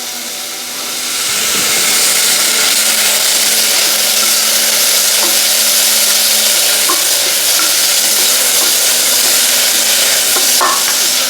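Onion frying and being stirred in a pot for a vegan spaghetti bolognese, a loud continuous sizzle with occasional scrapes of the spoon, close up.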